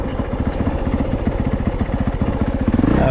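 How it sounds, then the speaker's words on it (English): Honda CRF450RX dirt bike engine running on woods trails, a steady, loud, rapid four-stroke thump with even pulses throughout, close by and alone without voices. "The bike is running really good today."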